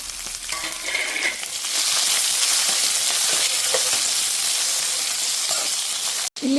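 Slit green chillies and chopped capsicum frying in oil in a pan for mango chitranna, a loud continuous sizzle and hiss close by, with a brief clank near the end and no talking.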